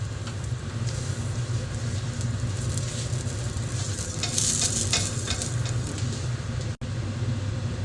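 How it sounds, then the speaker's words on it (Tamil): Spices dry-frying in a kadai without oil for arachuvitta rasam, a steady close crackling sizzle with stirring scrapes that swell briefly midway, no voices. "இதை அதே கடாயில் வித்தவுட் ஆயிலில் ஃப்ரை பண்ணிட்டுருக்கேன்"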